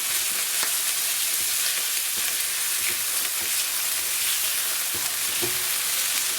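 Onions sautéing over a full flame for a king prawn masala, giving a loud, steady frying sizzle with occasional stirring scrapes and clicks, no talking.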